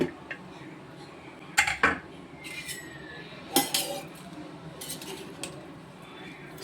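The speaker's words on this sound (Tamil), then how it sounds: "இப்போ ஒரு 1/2 மணி நேரம் கழித்து குக்கரை திறக்கிறோம்." A pressure cooker of chicken biryani is opened, giving a few sharp metallic clanks and clinks of the lid and utensils with a faint hiss in between, heard close in a quiet kitchen.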